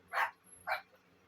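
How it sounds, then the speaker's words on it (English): Dogs bark in another room of a house: two short, muffled barks about half a second apart, moderately faint and heard alone without talk. "my dogs were having a screaming fit, barking, which they're still being loud in the other room"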